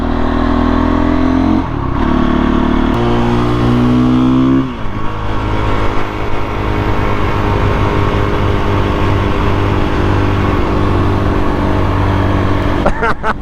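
Motorcycle engine revving hard and continuously, with rising and falling pitch throughout as a rider prepares for a wheelie; loud and close, with wind noise and faint talk underneath.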